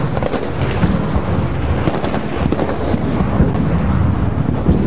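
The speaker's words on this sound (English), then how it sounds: "they've got those very big technical vehicles with the anti-aircraft guns on. And they're blasting the Gaddafi positions up there" Anti-aircraft guns mounted on technical vehicles firing during a street battle in Sirte, Libya: loud, dense, continuous booming and rattling bursts that overlap and roll on without a pause.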